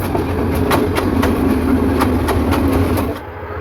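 The Chattala Express passenger train rumbles past close by with rhythmic clickety-clack of wheels over rail joints, loud and continuous before easing off at the end.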